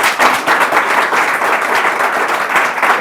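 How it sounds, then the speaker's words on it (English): Dense, steady applause from a crowd, many hands clapping at once with a few louder individual claps, sustained for the whole stretch. "I think she deserves an applause."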